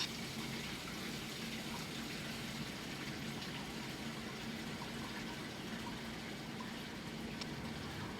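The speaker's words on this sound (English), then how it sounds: "pull the blue drain valve handle to drain the hot oil into the filter pan" Hot fryer oil draining through an opened drain valve into a filter pan beneath the fryer, a steady, faint rushing pour that runs continuously with no talk over it.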